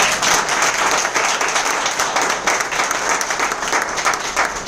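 An audience at a business meeting in Ahmedabad breaks into loud, sustained applause for Roshanbhai, a thick wash of clapping from many hands throughout.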